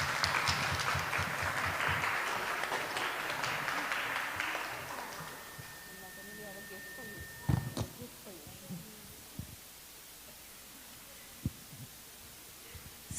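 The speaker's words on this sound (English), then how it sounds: "Can we have one more round of applause for all the participants so far?" Audience applause for Gita contest participants fills a hall, a dense, fairly loud burst of clapping that fades over about five seconds, followed by a quiet room with a few scattered knocks.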